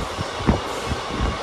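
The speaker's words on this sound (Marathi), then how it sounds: "आता आमची ट्रेन सुरू झालेली आहे. छत्रपती शिवाजी टर्मिनस इकडून सुटलेली आहे" Train departing Chhatrapati Shivaji Terminus, heard from inside a carriage as a low steady rumble with a few soft clunks of moving wheels, brief and without voices.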